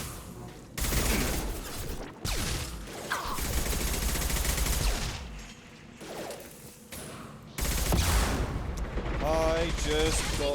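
Shotgun blasts and heavy gunfire from a Mass Effect 2 firefight sound loud and close in dense, overlapping bursts that drop out briefly twice, and voices break in near the end.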